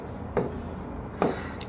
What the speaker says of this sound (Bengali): এই লাইনটা লিখি একটু